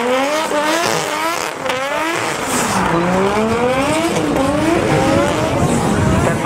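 A Nissan Skyline R33 drifts around cones at Ardmore, its engine revving hard in rising and falling sweeps while the tires squeal, loud and close throughout.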